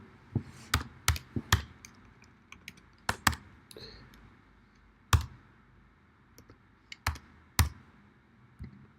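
Login credentials typed on a computer keyboard, crisp isolated key clicks in irregular bursts and pauses, close and fairly quiet against a soft background hum.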